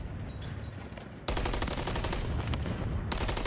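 Rapid automatic gunfire crackles in a Call of Duty match, a sustained burst that starts abruptly and runs on loud and dense to the end, with a brief gap before another volley.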